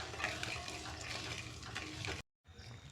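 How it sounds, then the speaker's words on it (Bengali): Sweets melting in water in a pan over a low gas flame while being stirred, a steady close wet sloshing and scraping that cuts out abruptly near the end and then resumes more quietly. "ভালো করে নাড়াচাড়া করে মিষ্টিটাকে গলিয়ে নেব"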